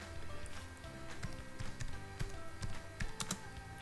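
Quiet rapid tapping of keys on a computer keyboard, an irregular patter of light clicks close by, with no talk.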